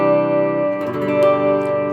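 A Telecaster neck pickup running through a 1960s Pine amp with an RC booster and MXR slapback delay sustains a steady, close chord that shifts into a second ringing chord, with echoing repeats trailing underneath.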